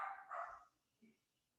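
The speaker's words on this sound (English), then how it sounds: "Sorry, guys, my dog's going nuts." A pet dog barks a couple of quick, muffled barks at moderate distance indoors, followed by a fainter short yip, with no talking over it.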